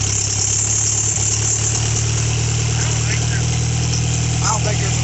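A 1987 Chrysler Conquest engine runs with no muffler or exhaust after a new fuel pump install, a loud, raw, continuous idle rumble holding steady throughout, with a voice heard over it.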